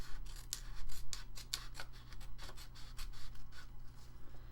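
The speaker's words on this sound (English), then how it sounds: "Okay, so now we're just going to cut along here." Scissors cutting through paper for a handmade journal envelope pocket, a series of crisp snips in a steady rhythm, close and distinct with no talking.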